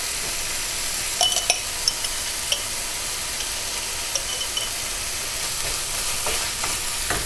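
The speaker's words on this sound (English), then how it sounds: "now that that's kind of softened up, I'm just going to add the capers." Capers stirred into a sizzling pan with softened ingredients, a steady close frying hiss broken by light scrapes and clicks of a spoon against the pan.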